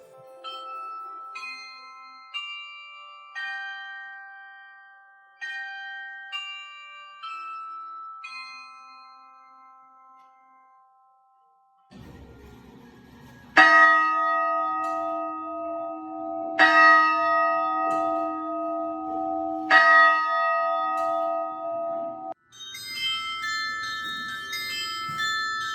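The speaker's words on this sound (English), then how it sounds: "It on the hour chimes Christmas carols." A church bell tower chimes Christmas carols on the hour, clear ringing tones that play a slow melody, pause, then resume with louder, fuller bell strikes.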